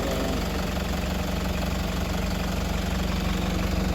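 A 2015 Toyota Prado's 1KD-FTV diesel engine idling with a knocking fault, heard as a steady low rumble with a fine rhythmic diesel clatter, close and constant with no speech.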